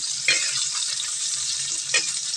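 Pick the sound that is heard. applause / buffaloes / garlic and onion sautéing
garlic and onion sautéing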